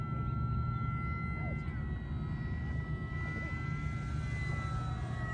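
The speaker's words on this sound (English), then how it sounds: "This plane flies awesome." An FMS Super Cub radio-controlled model airplane fitted with floats flies overhead, its electric motor giving a steady whining drone with a constant low hum, fairly distant and faint.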